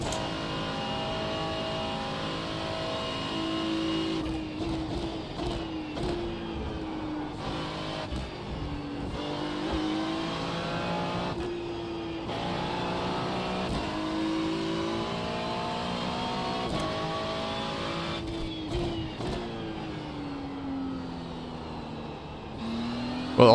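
A Ferrari GT3 race car engine at Spa in the iRacing video game revs and drones continuously, rising in pitch through the gears with repeated sharp drops at shifts and lifts, loud and close throughout.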